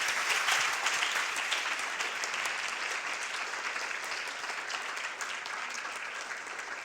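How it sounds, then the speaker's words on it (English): Sustained audience applause at a conference on moving beyond economic growth, a thick, even wash of many hands clapping that starts loud and slowly tapers off, with no talk over it. "Warm applause."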